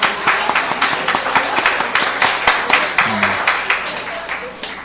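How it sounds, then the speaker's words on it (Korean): A church congregation at a Sunday service claps in welcome, a dense, sustained round of applause from many hands that fills the whole stretch, loud and close, with a brief voice rising over it near the middle. "박수로서 환영해 줄까요?"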